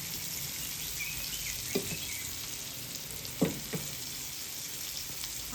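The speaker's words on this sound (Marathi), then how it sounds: "आता ही मच्छी आहे ती फ्राय पॅनमध्ये ठेवलेली आहे आणि गॅसचा फ्लेम स्लो करून" Pomfret fish frying in a pan over a low gas flame, giving a steady soft sizzle throughout with a couple of brief clinks or stirs, no talking.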